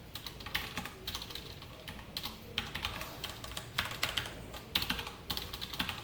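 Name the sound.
typing code on a computer keyboard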